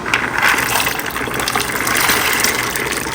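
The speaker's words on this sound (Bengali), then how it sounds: "চটপটির ডাল আমরা সিদ্ধ দিব আর ওভারনাইট ভিজিয়ে রেখেছিলাম। চলে যাবে এবার ডাল।" Soaked chotpoti lentils tipped from a container into a cooking pot of water, a steady gushing, splashing pour lasting a few seconds, close and fairly loud.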